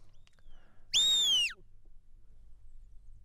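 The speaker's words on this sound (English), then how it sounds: "Lots of whistles from Neil here." A shepherd's single loud, sharp whistle commanding a sheepdog during a sheepdog trial semi-final, rising then sliding down, standing out alone against a quiet outdoor background.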